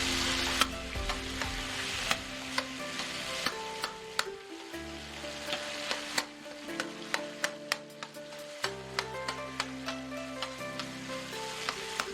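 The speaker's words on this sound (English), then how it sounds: "Mash and fry with spatula for 2 minutes." Garlic and fermented red soybean curd being mashed and fried with a spatula in a wok, a steady sizzle under repeated sharp metallic taps and scrapes in an uneven rhythm.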